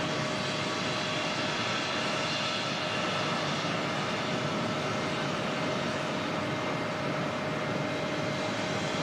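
A jet airliner at Auckland Airport roars steadily and loudly as a broad wash of engine noise with a faint whine running through it, constant for the whole stretch with no voices.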